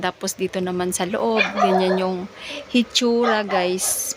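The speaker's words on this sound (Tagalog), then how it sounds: "Pasensya na sa ingay ng aso." A dog barks and yips in short bursts, fairly close, inside a small neighborhood sari-sari store while someone talks over it.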